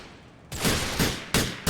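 Gunfire in Grand Theft Auto IV comes as three or four loud, sharp bursts, close and punchy, each cut off abruptly, with no talking over them.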